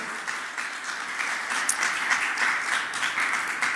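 A church congregation applauding during a Sunday sermon, a dense, even wash of many hands clapping that holds steady throughout at moderate loudness, with no voices on top.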